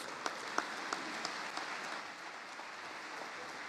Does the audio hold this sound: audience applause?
yes